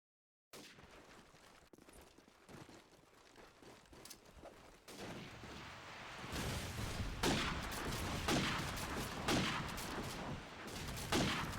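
Sniper gunfire rings out in Call of Duty 4 during a competitive LAN match, many sharp shots firing in quick bursts that grow louder and denser toward the end, with no commentary over them.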